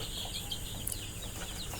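Broiler chickens kept on a rooftop farm make soft, continuous chirping and clucking calls, faint and fairly distant over a steady low background hum, with no voices.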